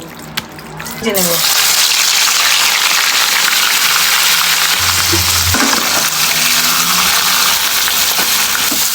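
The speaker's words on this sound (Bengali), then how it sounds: "তো প্রথমেই আমি মাছের তেলের মধ্যে একটু হলুদ লবণ দিয়ে ভালোভাবে মেখে তেলে ভেজে নেব।" Fish fat rubbed with turmeric and salt frying in oil gives a loud, steady sizzling hiss that starts after a brief quieter second and holds to the end.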